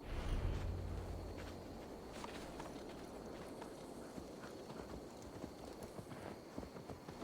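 Steady clip-clop of horse hooves on a forest path while riding in Assassin's Creed Valhalla, a continuous walking rhythm heard close and clear over faint ambient game background.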